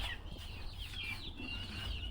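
Young chickens being let out on a small organic poultry farm, a flock chirping and clucking in overlapping high calls at moderate distance, steady throughout with no talk.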